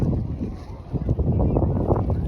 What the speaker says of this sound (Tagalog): Lakas po ng hangin, malamig.